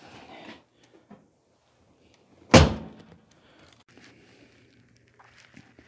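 A single sharp clunk of a 1967 Mercury Cougar XR7 door latch releasing as its handle is pulled up, loud and close, followed by quiet rustling and faint handling sounds.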